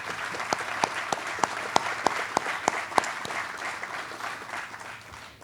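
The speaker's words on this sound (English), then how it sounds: "Please join me in a round of applause for Mayor Owen Henry." Applause for a mayor at a groundbreaking ceremony for a new hospital emergency department: steady crowd clapping with sharp individual claps standing out, loud at first and fading slightly toward the end.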